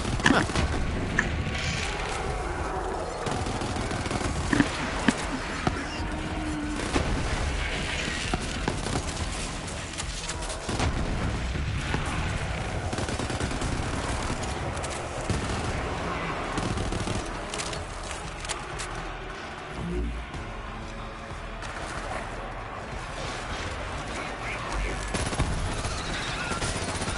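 Shots fired by a player in a PS4 video game, dense gunfire bursts running continuously under a busy, cluttered game soundtrack with occasional louder cracks.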